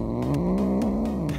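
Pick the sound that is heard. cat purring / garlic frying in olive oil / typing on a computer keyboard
cat purring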